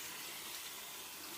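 A bathroom tap runs steadily while someone rinses their face, a soft, even hiss of water from close by with no talking.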